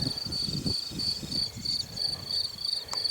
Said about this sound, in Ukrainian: Чуєте, як цвіркуни цвірчать?